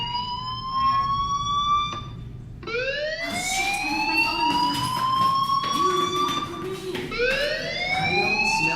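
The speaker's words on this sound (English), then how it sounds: "do you hear that fire alarm?" A fire alarm in the video game Life Is Strange wails loudly and continuously, its rising electronic tones sweeping up again and again, with no talk over it.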